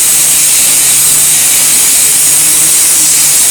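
A loud, continuous high-pitched grinding whine fills the whole stretch, harsh and steady, an angle grinder cutting metal up close.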